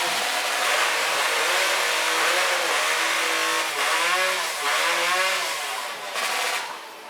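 A high-revving racing chainsaw at a STIHL Timbersports professional championship in France, screaming loudly and steadily with wavering pitch as the throttle rises and dips, close and dominant.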